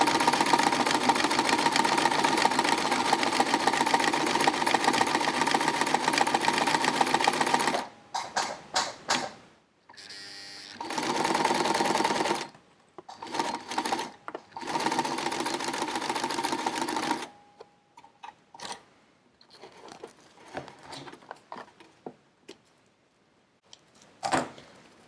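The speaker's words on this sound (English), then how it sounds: "I am by no means a professional sewing machine operator" A home sewing machine stitches a MOLLE-to-belt adaptor in bursts: a long continuous run of rapid mechanical stitching, then shorter starts and stops separated by pauses, ending in scattered brief clicks.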